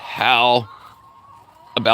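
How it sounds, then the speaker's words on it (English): Farm hens cluck loudly and close by in two short bursts separated by a quiet pause. "God, they're gorgeous hens."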